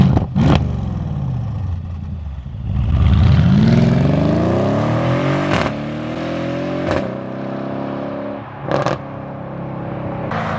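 A straight-piped Mercedes GLE 63 AMG roars past in a loud flyby, its revving exhaust rising and falling as it passes close, followed by several sharp crackles and pops from the pipes.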